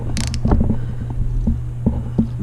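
A thread tap cuts into an aluminum spark plug hole on a chainsaw, giving close, creaking mechanical scrapes in short repeated bursts over a steady low hum.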